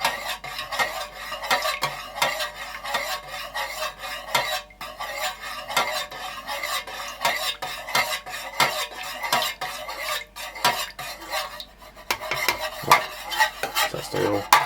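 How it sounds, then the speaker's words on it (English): A utensil stirs melted wax and added oil in a pot while making wax melts, producing continuous scraping and clinking against the pot in a busy, uneven rhythm, close and fairly loud with brief pauses. "Stir, stir, stir."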